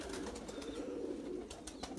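A pigeon coos softly in low, rolling murmurs while being held in the hand, close by and fairly quiet, with faint rustling around it.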